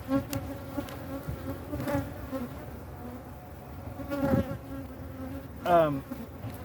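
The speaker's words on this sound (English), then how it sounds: "There's still some bees trying to work" Honey bees around an opened, moisture-heavy hive of a defensive colony, their buzzing rising and falling as individual bees fly close past, with a loud near pass at the end.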